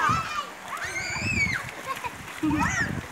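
Bath water splashes and sloshes close by in a noisy burst, with voices talking and squealing over it throughout.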